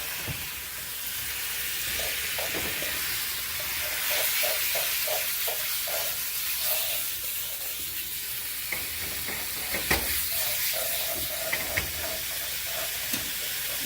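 Bacon sizzling in a frying pan, a loud, continuous hiss and crackle that holds steady throughout, with occasional stirring taps and faint voices in the background.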